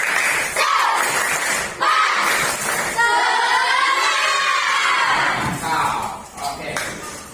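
A school class doing a rhythmic spirit clap and chant together, loud massed young voices shouting in unison with bursts of clapping, close and lively.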